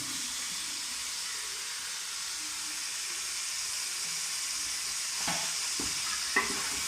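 Chopped tomatoes going into a pan of frying shallots for a Kerala-style chicken curry: a steady soft sizzle and hiss, with a few brief stirring knocks near the end.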